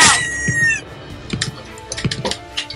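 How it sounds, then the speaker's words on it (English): A bird in the Roblox game Piggy lets out a drawn-out crow followed by a string of sharp, loud clucks in quick irregular bursts. "I hate this bird. This bird is so annoying."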